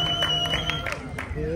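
Audience applauds and cheers at a rap battle, a steady wash of clapping and crowd noise that fills the whole moment without pause.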